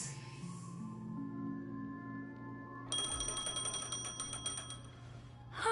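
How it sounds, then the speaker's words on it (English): A phone rings inside the video game Honkai Star Rail, a bright repeated bell-like trill that starts partway through over a low, steady game soundtrack. "A phone. Wanna listen in?"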